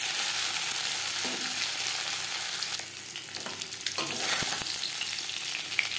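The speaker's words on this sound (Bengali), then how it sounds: "জ্যান্ত মাছ আমি হালকা করে ভেজে নিলাম।" Live singhi fish frying in hot oil for a thin curry with potato and green banana: a steady close sizzle with crackling spits and occasional stirring scrapes, no voices.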